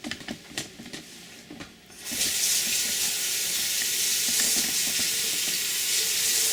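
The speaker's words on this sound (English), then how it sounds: "The first thing I'm going to do is wash my hands because sanitation is very important." A kitchen tap is turned on for handwashing before making hot water cornbread. After a few soft handling noises, a steady, fairly loud stream of running water starts and continues alone without pause.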